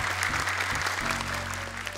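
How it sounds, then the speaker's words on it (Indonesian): Applause from an audience at a children's Hijaiyah letter recitation contest, a short burst of steady clapping heard close, alone without talk. "Tepuk tangan dong untuk Lukman nih."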